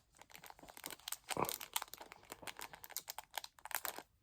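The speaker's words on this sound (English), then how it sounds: "Let's see if it'll cut through this plastic." Scissors work at a sheet of plastic with a run of crinkly snips and crunches, close and fairly loud, with one sharper crunch near the middle. No voices are heard.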